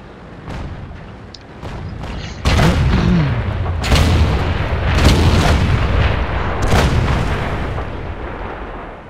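Artillery fire in a tank video game: several loud, heavy booms with sharp attacks and long rumbling tails, spaced a second or two apart over a steady engine-like background drone.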